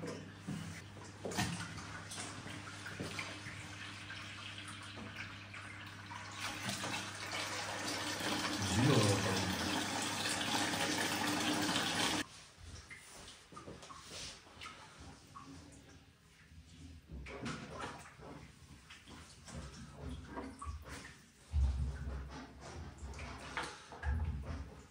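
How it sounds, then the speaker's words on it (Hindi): Water draining out of a fish tank, a steady rushing splash for about twelve seconds, close and moderately loud, that then stops and leaves quieter handling sounds and faint background noise. "इसमें से पहले थोड़ा सा पानी जो है वो बाहर निकालते हैं ताकि हम इसमें"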